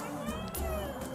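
A cat meows a few times in short, close cries among a household crowded with many cats and kittens, with faint voice-like sound in the background.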